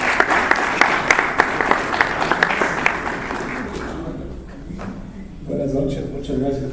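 An audience claps to welcome an engineer before his cybersecurity talk; a dense burst of applause runs for about four seconds, then fades as he begins speaking.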